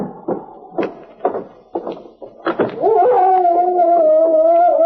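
A large dog lets out a series of short yelps and whimpers at close range that rise into a sustained, wavering howl continuing steadily to the end, set in a Yukon cabin.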